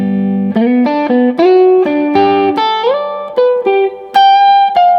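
Melodic country rock lick on electric guitar played slowly through effects, single notes and bends stepping through a short phrase with a touch of minor pentatonic, clear and close with no talking.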